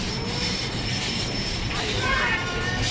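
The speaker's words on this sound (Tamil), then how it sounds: "இங்க பாருங்களேன் மேல ட்ரெயின் போகுது பாருங்க." A train running on an elevated metro line overhead in Dubai, a loud continuous rumble with wheel squeal rising near the end, heard close from below.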